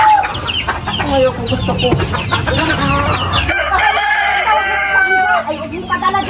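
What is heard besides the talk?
chickens and rooster crowing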